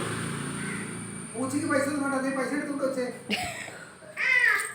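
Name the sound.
cat meowing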